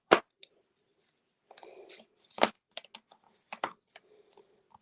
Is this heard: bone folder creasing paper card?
yes